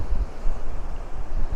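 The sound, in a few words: strong wind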